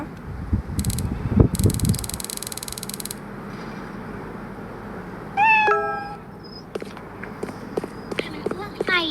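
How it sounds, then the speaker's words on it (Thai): A cat at a zoo at midnight gives a few short meows among scattered footsteps and clatter, following loud bursts of noise and a voice early on. "อะไรอ่ะ ตัวอะไรอ่ะ อ๋อแมวตัวนี้อ๋อแมว"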